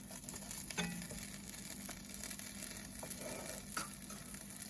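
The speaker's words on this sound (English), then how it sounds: "My heat is off because my skillet is hot and it is cooking them." Grilled cheese roll-ups sizzle softly in a hot skillet with the burner turned off, a faint steady crackle and fry with a few small bumps and scrapes, no talking.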